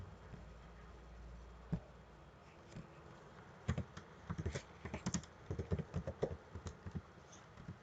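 Computer keyboard keys tapped while saving JavaScript code, a quick cluster of light clicks in the second half, near and fairly soft, with no talk.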